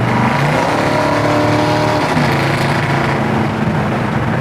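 A 1970 Chevy K10 four-wheel-drive truck's big engine roars loudly and close by, its deep rumble rising and falling in pitch as it revs throughout.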